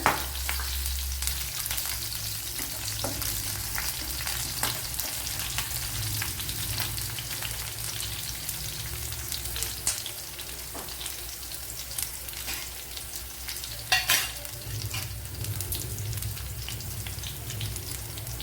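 Green chillies sizzle steadily in hot oil while being fried for a pomegranate-style lemon pickle, a continuous close frying crackle with occasional stirring scrapes and brief louder spatters.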